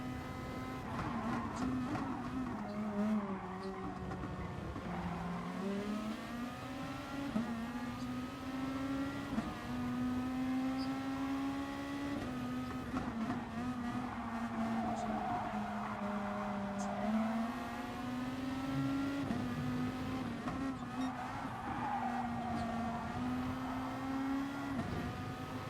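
Race cars in Gran Turismo Sport drone along together, engine tones rising and falling through gear changes with several cars audible in a pack, a steady moderate roar with no talk over it.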